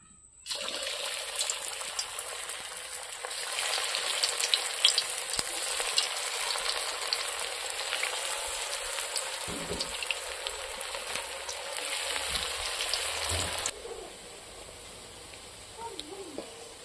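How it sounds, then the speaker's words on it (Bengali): Potato pakoras deep-fry in hot oil, producing a loud bubbling sizzle that starts abruptly and holds steady, with a few low knocks, before dropping to a quiet hiss at the end. "এখন আমি তেলটায় ভেজে নিব"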